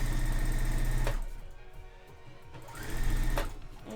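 A sewing machine runs in loud rhythmic bursts while stitching a box bag, the motor's rapid needle hum easing down in the middle before speeding up again, close and alone.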